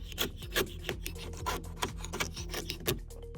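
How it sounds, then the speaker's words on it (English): Old, bubbled paint on a Chevy Express van is sanded by hand in rhythmic rasping strokes, roughly three per second, close and dry with no talking. "I'm sanding so much. It's a crappy Chevy paint."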